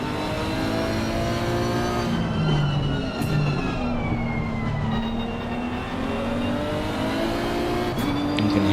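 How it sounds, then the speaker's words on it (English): In a racing video game at Zandvoort, a race car's turbo engine roars loudly and continuously, its pitch rising and falling as it accelerates and shifts, with no talking. "You can hear that roar of the engine, that turbo trying to catch up to Kanahari."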